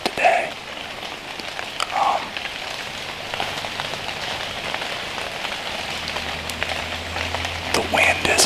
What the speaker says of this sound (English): But it's raining again this weekend